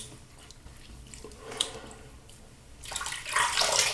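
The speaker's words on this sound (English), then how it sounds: "Let's go ahead and rinse off." Water splashes against a face as it is rinsed after a wet shave with shave soap, quiet and close at first, then building into a louder, steady wash of running water over the last second.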